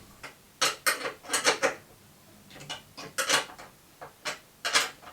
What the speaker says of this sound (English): So your 10mm spanner comes in handy here.